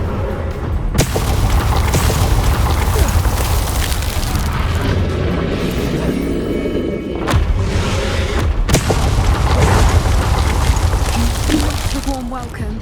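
Bombarda exploding spell blasts in Hogwarts Legacy, several loud booming bursts with sharp onsets over a dense rumbling game soundscape, the strongest hits spaced apart near the start and later on.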